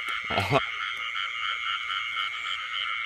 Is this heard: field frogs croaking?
yes